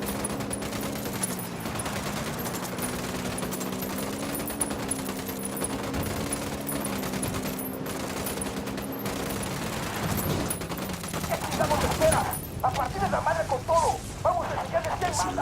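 Sustained automatic gunfire from a Ghost Recon Wildlands firefight set in Bolivia rattles in dense, continuous bursts over a steady background rumble, loud and close, with voices talking over it.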